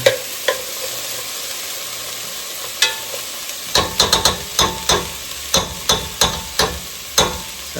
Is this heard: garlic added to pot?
yes